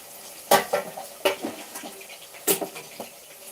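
Onions are stirred in a pan, with a few sharp spoon knocks and scrapes against the metal standing out over a faint background, and no one talking.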